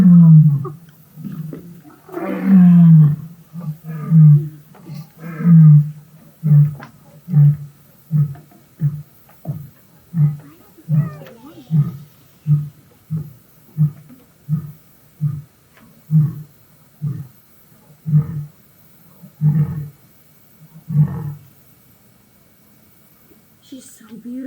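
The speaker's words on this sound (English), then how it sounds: "then you just hear this lion roaring, and then this elephant screaming." A lion at San Diego Zoo Safari Park roars close and loud in a long series of deep, rhythmic grunting pulses that slowly fade out. A brief higher call cuts in near the start.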